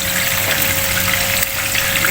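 Steady broadband hiss of food frying in a pan over a home stove, loud and continuous without pause, with a faint low hum running beneath it.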